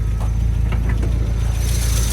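A 1977 MG MGB roadster's restored engine idling with the hood open, a loud, steady low rumble heard up close and alone.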